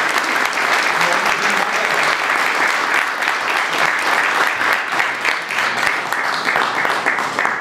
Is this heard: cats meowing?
no